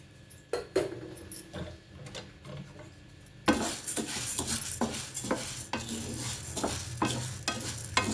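Dry dal and rice grains being stirred and roasted in a pan for minapa sunnundalu, giving a gentle rustling scrape at first and then a louder, steady gritty rattle with repeated spoon strokes close by.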